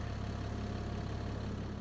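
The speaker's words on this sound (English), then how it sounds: "On this big old tractor here." A large tractor's engine in the video game Farming Simulator 22 hums continuously at a constant pitch, a low, steady drone like a heavy vehicle idling, with no other sounds.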